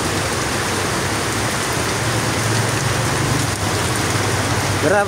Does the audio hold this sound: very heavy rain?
yes